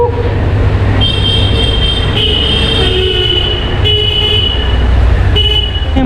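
Train horn at a closed railway crossing in Koilighoghar, Odisha, sounding in several loud toots over the heavy rumble of a passing train.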